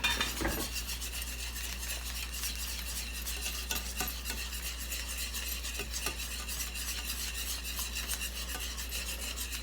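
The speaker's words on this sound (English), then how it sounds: "Need a whisk. Work better than that spoon." A whisk scrapes and stirs through beef bouillon pan gravy for meatloaf, a steady close rasping swirl over a constant low hum, continuing evenly throughout with no talking.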